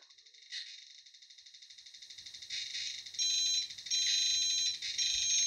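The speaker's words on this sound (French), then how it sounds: "si j'active le Bluetooth, eh bien, on entend ce bip." A rapid, steady electronic beeping from a radiation detector picking up a phone's Bluetooth signal pulses continuously, growing louder and denser partway through, with a faint low hum underneath.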